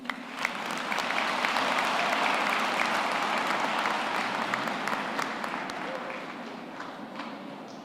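A crowd at a university graduation ceremony claps steadily, a dense wash of applause that swells early and slowly tapers off toward the end.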